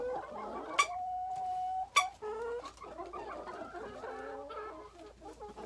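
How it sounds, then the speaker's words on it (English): Hens cluck and squawk close by in a coop at morning, a string of short bursts broken by a couple of sharp calls and one sustained cackle. "Good morning, chickens."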